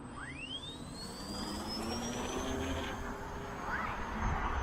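An E-flite Clipped Wing Cub 250 electric RC airplane takes off, its motor rising in a rapid upward whine, then holding a steady buzzing tone over outdoor noise.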